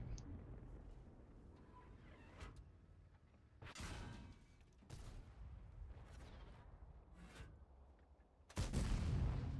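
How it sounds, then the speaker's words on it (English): Single shots from a Carro 45t tank gun in a battle video game: several separate sharp booming reports spaced a second or two apart over a low rumbling background, with a louder, heavier blast at the end. "I am firing single shot right now"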